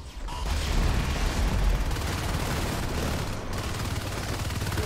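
Sustained rapid gunfire from marine weapons in the sci-fi shooter Natural Selection 2, a dense continuous automatic burst with mechanical clatter, loud and close throughout.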